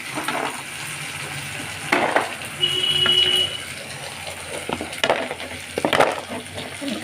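Mashed banana stem dropped into a pan over a gas flame, with a steady broad sizzle and a few scraping stirs and utensil clinks rising and falling throughout, fairly close.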